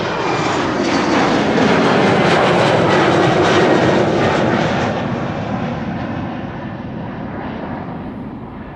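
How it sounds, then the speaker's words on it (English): Embraer jet bound for Bremen spooling up for departure at Amsterdam Schiphol, a steady loud roar of engines that swells, then slowly fades as it moves off. "spooling up and get things rolling is what this Embraer to Bremen is doing"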